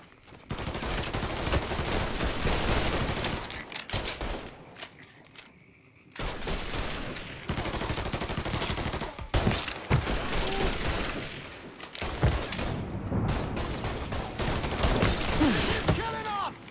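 Video game gunfire rattles in dense, loud bursts of rapid automatic shots and blasts, broken by a brief lull near the middle, with voices talking over the action.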